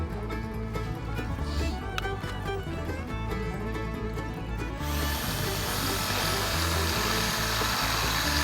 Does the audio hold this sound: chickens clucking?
no